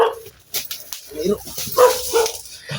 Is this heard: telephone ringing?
no